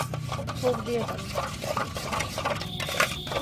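Ingredients for a potato barbecue stirred and scraped around a bowl, a steady rubbing, clinking churn that sounds close and continuous under a low background hum.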